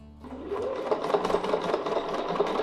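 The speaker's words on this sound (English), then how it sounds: "And for these passes, I will stitch along my stitch line." A sewing machine stitches a nested petal quilting design along a template, its needle running in a steady, fast, close-up rhythmic whir throughout with no voices.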